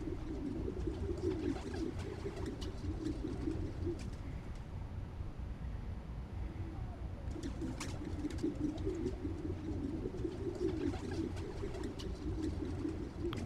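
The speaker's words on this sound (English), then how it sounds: "There's a lot of birds around here." Pigeons coo in Spider-Man: Miles Morales, soft repeated low coos in two long bouts separated by a pause, over a steady city-like background with faint clicks and no talk.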